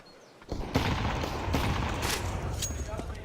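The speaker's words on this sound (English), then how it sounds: "The decoys pop." Decoy grenades popping during a Counter-Strike grand final at the BLAST Global Final in Bahrain, 2019: a sudden dense burst of rapid gunfire-like pops that continues steadily over a noisy background.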